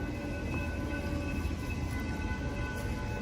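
A BNSF passenger train pulls into the Downers Grove station, a steady quiet rumble of wheels and cars rolling along the rails with faint high tones above, no talk.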